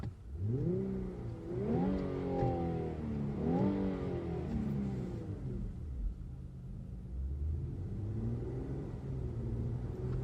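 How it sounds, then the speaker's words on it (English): A 2018 Infiniti Q60 Red Sport twin-turbo luxury coupe is revved twice in quick succession, its exhaust rising and falling in two sharp climbs before settling back to a steady low idle rumble, close and loud. "So that was an exhaust rev."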